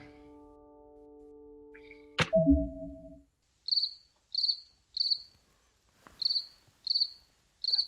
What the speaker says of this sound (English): Fucking cricket.